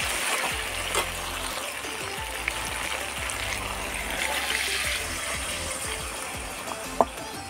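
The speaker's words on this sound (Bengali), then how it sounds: "এবার আমি জল দিয়ে দেবো।" Water poured into a cooking pot of simmering curry, a steady gushing stream with faint clicks and knocks, close and moderate in level, no talk.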